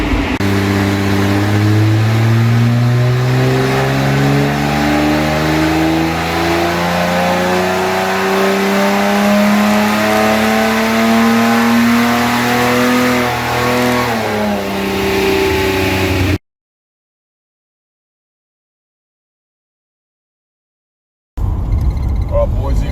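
A 265 Hemi engine revs hard on a dyno, its loud, climbing roar sweeping up through the gears for about sixteen seconds before cutting off abruptly. Silence follows, then a brief burst of sound.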